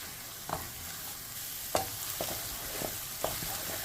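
Red shallots and toasted garlic rice being stir-fried in a pan for a Lao khao soy sauce, giving a steady sizzle with several sharp scraping clicks of the spatula spaced through it, close and moderately loud, with no talking.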